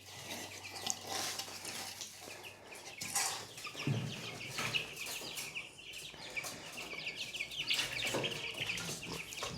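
Young laying hen chicks about four weeks old, raised on medicated feed on a farm, cluck and peep continuously at close range, with some wing flapping and shuffling among them.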